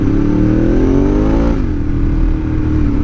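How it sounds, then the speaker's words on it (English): Motorcycle engine revving loudly and steadily through a wheelie, its pitch climbing for about a second and a half and then dropping back to a lower drone. "And I just done a little wheelie. Unintentional, of course."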